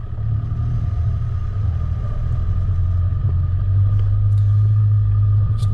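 A 4WD vehicle climbs a steep, rocky, slippery, off-camber track at Yarrabulla Creek, its engine a steady, close, loud low rumble that holds constant throughout.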